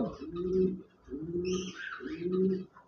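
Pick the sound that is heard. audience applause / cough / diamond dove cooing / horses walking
diamond dove cooing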